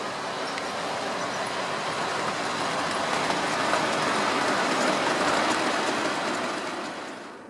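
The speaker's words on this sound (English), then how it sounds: "here's the latest diesel addition to the layout, and it's in RES livery" A model Class 47 diesel locomotive in RES livery rolls along a layout, giving a continuous rushing rumble of wheels on track that swells in the middle and eases off toward the end, with no voices.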